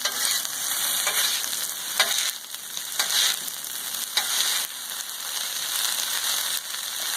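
Fried rice sizzling and frying on a Blackstone flat-top griddle, a steady loud crackling hiss with occasional scraping and stirring knocks from a spatula, close up and without voices.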